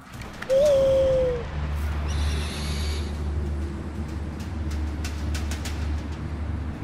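Owl hooting in the video game Far Cry Primal, a single clear hoot over a steady low rumble of game ambience, followed by faint wooden clatter and soft bird-like calls.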